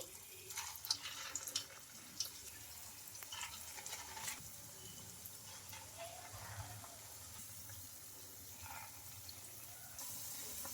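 Puffed rice vadas (garelu) frying in a pan of oil give a soft sizzle, mixed with intermittent clinks and stirring noises and a brief stretch of running water, all fairly quiet.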